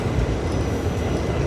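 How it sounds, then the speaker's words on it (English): A New York City subway train riding toward Chinatown, with a steady, loud, close rumble and rattle of the car throughout and no talking. "we are now on the subway heading to Chinatown."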